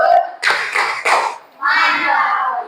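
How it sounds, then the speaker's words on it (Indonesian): Schoolchildren in an Indonesian primary classroom perform a rhythmic 'tepuk salut' clap, a few loud bursts of hand claps mixed with their chanting voices, followed by a sustained stretch of children's voices together. "Tepuk salut dong."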